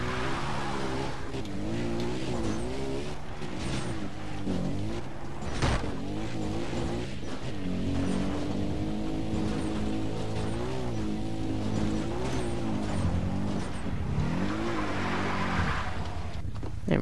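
ATV engine in the video game Far Cry 3, droning steadily throughout with rising and falling pitch as it is driven, a continuous near motor hum with occasional bumps.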